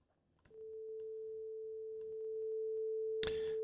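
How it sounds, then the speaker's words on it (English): A pure sine wave generated in Pure Data plays as a steady, unchanging tone from start to finish. A short burst of noise breaks in near the end. "A straight up sine wave, no problem."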